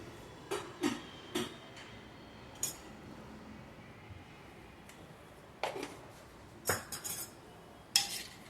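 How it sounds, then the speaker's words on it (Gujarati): A metal spoon clinks and taps against a glass of fresh beetroot juice mixed with lemon and black salt, sounding in scattered sharp bursts, close and fairly quiet with pauses between. "પછી તેને આપણે બરાબર હલાવી નાખીશું"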